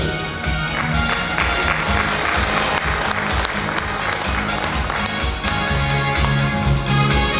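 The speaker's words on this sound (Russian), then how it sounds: "Еще раз ваши аплодисменты нашим операторам машинного доения" Applause from an audience at an agricultural workers' day ceremony, honoring machine milking operators; steady, dense clapping fills the whole stretch with a low rhythmic hum of music underneath.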